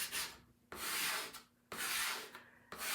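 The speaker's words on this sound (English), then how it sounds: "So I'm just scraping everything off." Old chalk paste being scraped off a stencil in three long, rasping strokes separated by short pauses, close and clear with nobody speaking.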